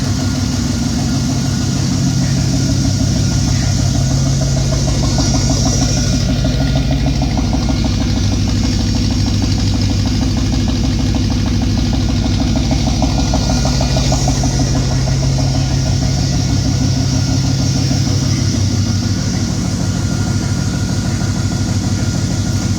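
A 1968 Pontiac engine fitted with Holley Sniper fuel injection idles loud and close, a steady, even rumble with no revving, running alone for the whole stretch.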